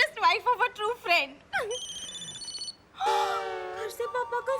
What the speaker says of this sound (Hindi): नहीं प्लीज फोन उठाओ, ये अच्छी बात नहीं है।